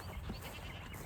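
Goats on a small farm pasture bleat once, a short wavering call heard at moderate distance over quiet outdoor background.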